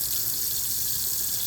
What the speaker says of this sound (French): Et vous pouvez voir le niveau de l'eau, la façon comme l'eau elle coule.